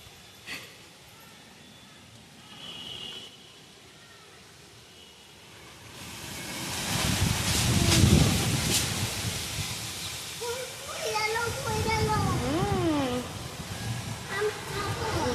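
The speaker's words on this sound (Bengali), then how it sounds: "এই দেখো ঝড় শুরু হয়ে গিয়েছে" Wind roars in as a storm begins, rising from quiet to strong, blustery gusts, while voices speak over the rushing noise.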